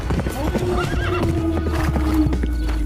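A horse whinnies over a steady clip-clop of hooves, the neigh rising and falling in the middle while the hoofbeats continue throughout, close and fairly loud under a narrating voice.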